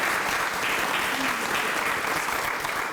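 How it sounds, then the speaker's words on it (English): Audience applause at a school grand reopening and ribbon cutting ceremony, a steady broad clapping from a crowd that holds evenly loud for the whole stretch with no break. "you can applaud."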